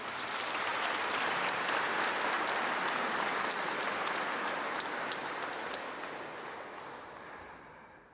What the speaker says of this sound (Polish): Bóg zapłać i wielkie też brawa.